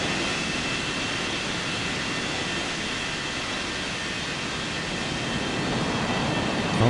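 An aircraft on runway 21 right produces a steady, broad roar of engine noise for about seven seconds, swelling slightly toward the end.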